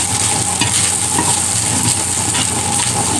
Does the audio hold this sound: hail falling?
no